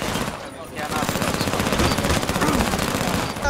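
Rapid automatic gunfire from a Halo 5 match rattles on without pause, loud and dense, while a voice calls out over the shooting.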